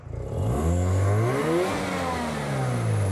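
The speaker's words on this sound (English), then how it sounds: "You're going to need to press the right pedal, and I need you to rev it" A car engine on a Teensy/Arduino piggyback ignition revs up hard and close, climbing steadily in pitch and holding a loud, strained roar for about three seconds.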